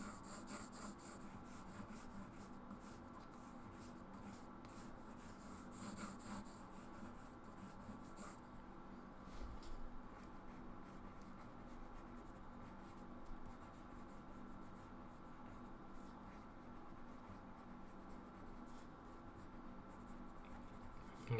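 A silver pencil drawing a circle on paper, a faint continuous scratchy rubbing of graphite-like tip on the sheet, quiet and close with no talking.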